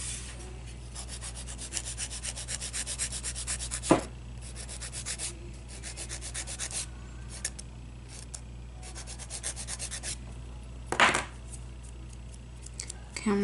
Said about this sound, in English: I'm just gonna file it down a little bit more